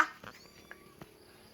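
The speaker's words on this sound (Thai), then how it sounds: "ได้ยินเสียงแมวร้องอยู่ข้างบน" Cats meowing up on a house roof, a few faint, brief cries that sound distant and thin against a quiet background.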